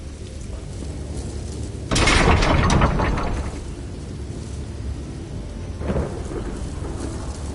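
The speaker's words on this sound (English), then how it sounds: "How often are we going to see a tempest like this in one lifetime?" Heavy rain pours steadily through a thunderstorm in The Elder Scrolls Online, with a loud, close thunder crack and rumble about two seconds in, then a second softer roll near the end.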